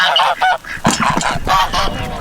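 A flock of ducks or geese in a farmyard honks and quacks close by, a busy overlapping run of loud, nasal calls with no pauses and no voices.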